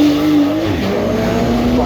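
A Singer DLS (Dynamic and Lightweight Study) runs at the Goodwood Festival of Speed. It gives a loud, steady engine drone whose pitch dips briefly partway through, with a voice talking over it.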